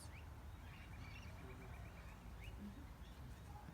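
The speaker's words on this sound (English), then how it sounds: "More birds." Birds call at dusk in an Australian outdoor setting, with short chirps and a run of repeated high notes over a steady low background hum, fairly faint and distant throughout.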